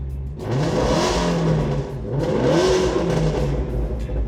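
A Ford Mustang Shelby GT350R engine fires up in loud mode and revs loudly twice, each throaty roar rising and falling with a deep rumble, no talking.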